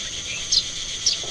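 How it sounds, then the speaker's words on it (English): A cricket chirps from inside a barrel in the video game Night of the Rabbit, giving two short, high chirps over a steady outdoor ambience. "I think I can hear a cricket chirping in the barrel."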